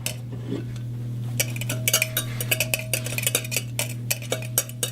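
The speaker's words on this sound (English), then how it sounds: "Now you just take it, mix it all in." Pancake batter with baking soda mixed in a bowl for apple pancakes, rapid rhythmic clinks and taps of a utensil against the dish over a steady low hum, close and fairly loud, with no talking.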